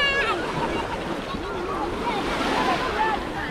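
Black Sea surf rolls onto a crowded summer beach at Zatoka, a continuous rushing wash with wind buffeting the microphone, while a voice talks over it.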